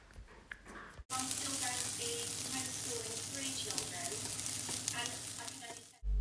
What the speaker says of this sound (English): Fry the onion until golden brown.